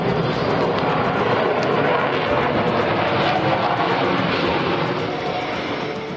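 Three Rafale fighter jets fly at an air show, producing a loud, continuous roaring jet rumble that holds steady and eases slightly at the end.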